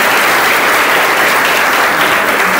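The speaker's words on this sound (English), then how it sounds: "Another round of applause for Deputy Principal." Loud, close applause from a large crowd of learners at a school celebration day, a thick continuous roar of clapping that holds at full strength for the whole stretch.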